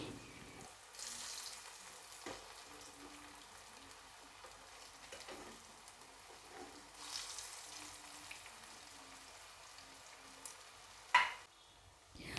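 Falafel frying in hot oil: a faint, steady sizzle with soft bubbling, and a few clatters as the pieces are turned over. A sharper clink comes near the end.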